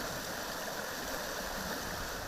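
Palpala river flowing at Lulung in Similipal, a steady broadband rush of moving water, continuous and fairly close, with no voices.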